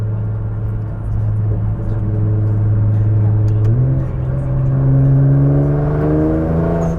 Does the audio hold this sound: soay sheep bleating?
no